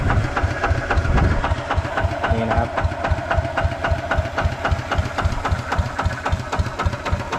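Engine idling and lightly revved, a steady rhythmic low chugging with a faint knocking pulse, close and continuous.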